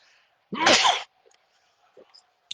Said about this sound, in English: I've never had a sneeze live on my live chats before on the Roundup.